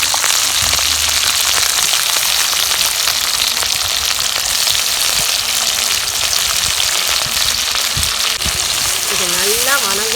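Adamant creeper (pirandai) fries in oil with a loud, close, continuous sizzle and crackle throughout, and someone speaks briefly near the end.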